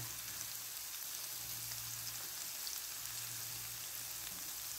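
Garlic and ginger frying in a pan before chicken goes in for a zucchini stir-fry, giving a steady, faint hiss of sizzling oil throughout with a low background hum and no talking.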